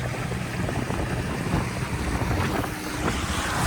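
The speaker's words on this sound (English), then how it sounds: "I'm going to go back up river because the Parsons is really kicking Torpedo's ass right now." Small boat with an electric outboard motor heading upriver into a headwind, with steady wind buffeting the microphone over a low rumble and the splash of water against the hull.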